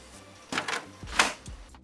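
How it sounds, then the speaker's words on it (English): An all-in-one printer-scanner scans a sheet with a few short mechanical whirring and clacking bursts from close by. No one speaks. "So I'm going to finally scan it."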